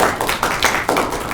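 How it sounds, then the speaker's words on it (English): Loud, close applause from a group, with brisk overlapping claps that swell and dip in uneven bursts. "give a round of applause for Walton."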